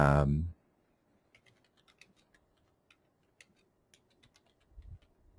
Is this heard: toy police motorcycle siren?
no